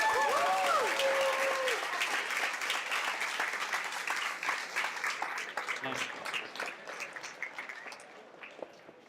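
Audience applause at an astronomy talk night in a bar, a thick crowd clapping that starts loud with a brief whistle and tapers gradually into scattered claps.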